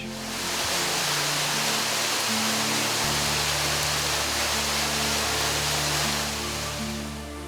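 The 31-foot Glory Hole waterfall in the Arkansas Ozarks pours through a hole bored in solid rock, a loud, close, steady roar of falling water that fills the scene with no voices.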